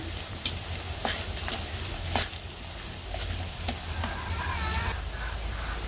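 Garlic and bay leaves frying in oil give a continuous crackling sizzle with sharp pops scattered through it.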